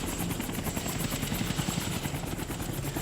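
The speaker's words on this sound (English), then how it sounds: "Helicopter." A helicopter's rotor thumps rapidly and steadily, loud and continuous with no voices.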